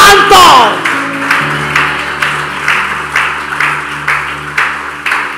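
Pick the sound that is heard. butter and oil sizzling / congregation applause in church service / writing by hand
congregation applause in church service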